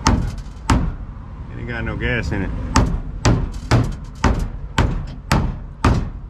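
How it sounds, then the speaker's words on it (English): A hammer strikes the fuel pump of a Chevy Silverado 2500 HD 6.0 with a no-crank, no-start fault, giving about nine loud, sharp metallic blows at a steady rhythm, with someone speaking briefly between the hits. "Hit it with a hammer."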